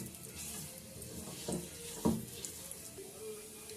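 Dates frying in a pan, a soft sizzle with occasional stirring scrapes and a clatter, fairly quiet and steady throughout.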